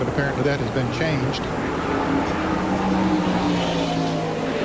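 NASCAR race cars at Watkins Glen, the 1997 Bud at the Glen, drone steadily in the distance beneath continuous commentary, a low engine hum holding through the whole stretch.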